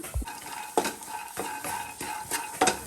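Curry leaves, green chillies and mint are stirred while roasting on low heat in a pan. A spatula scrapes the pan in quiet, regular strokes about every half second over a faint sizzle, with no talk.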